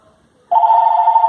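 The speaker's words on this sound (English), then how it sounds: "You can hear it ringing." A landline handset ringing through a Bluetooth cellular gateway, with a sudden electronic ring tone that starts after a quiet moment and holds steady and loud, close by.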